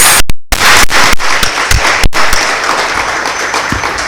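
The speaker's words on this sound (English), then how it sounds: "Can we please give the Reserve Bank a round of applause?" Applause from a lecture audience at a public talk on the Reserve Bank, dense clapping with a few sharp claps standing out, loud and close, fading slightly over a few seconds with no talk over it.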